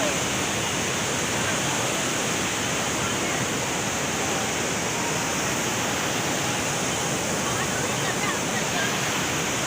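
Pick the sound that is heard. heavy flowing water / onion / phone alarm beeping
heavy flowing water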